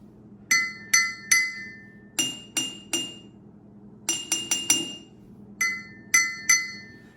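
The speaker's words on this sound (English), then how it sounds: "Now, take your spoon and strike them gently to make a sound." Glass bottles holding different amounts of water are struck gently with a spoon, producing about twelve ringing clinks of different pitches in quick groups of two to four, each note ringing briefly before fading, with no talking.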